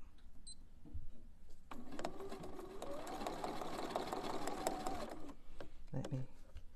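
A Bernina sewing machine with a #43 couching foot stitches steadily for about three and a half seconds, a close, even mechanical whir framed by quieter handling noises before and after.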